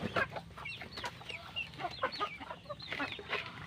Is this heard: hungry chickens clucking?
yes